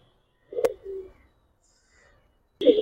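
Giribaz pigeons coo softly at close range in a few short, low, throaty bursts separated by quiet pauses, with no talking.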